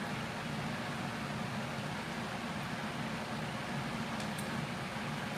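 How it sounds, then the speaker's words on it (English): A loud air conditioner runs steadily, a dense even roar that fills the whole clip without pause, with no voices over it. "this air conditioner is very loud, and I'm yelling over it"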